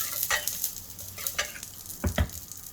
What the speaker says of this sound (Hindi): अब इस तड़के को डालेंगे हम हमारी तैयार की हुई दाल में। तो ये देखिए इसको हम दाल में डाल देंगे।